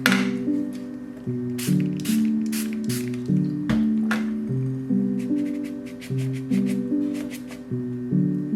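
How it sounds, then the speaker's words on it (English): A spray bottle spritzes water over a watercolor sky in short, hissy bursts, repeated many times over steady background music. "use a spray to spread it smoothly over the sky"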